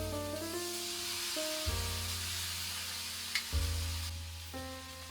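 Crab stir-fried with scallion and ginger in a wok, with yellow wine splashed in, giving a steady close sizzle and hiss over a constant low hum, with a couple of short spatter bursts.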